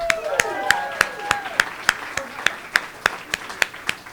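An audience at a live storytelling event claps in a steady unison rhythm, sharp evenly spaced beats, with a few whoops and cheers at the start.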